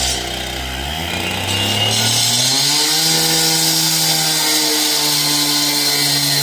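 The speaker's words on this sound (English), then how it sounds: "Now we're gonna cut the concrete out the wall there." A powered saw cuts concrete out of a wall during hydraulic cylinder repair work, a loud continuous motor whine that rises in pitch as it spins up, then holds steady and harsh throughout.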